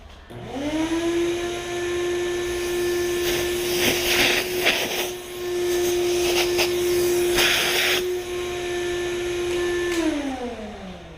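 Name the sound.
vacuum cleaner cleaning a car windshield frame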